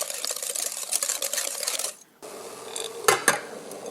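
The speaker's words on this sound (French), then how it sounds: "on mélange sans cesse au bain-marie" Egg whites and sugar are beaten nonstop in a bowl set over a bain-marie, making a loud, steady whisking rasp close up. It stops briefly, then resumes more softly with a couple of sharp clinks against the bowl.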